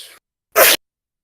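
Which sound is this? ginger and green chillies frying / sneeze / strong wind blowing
sneeze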